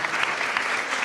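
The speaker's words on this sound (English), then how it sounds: "yes, applause" A conference audience at a European cultural policy event gives a short burst of applause, an even patter of many hands at moderate distance, with no speech over it.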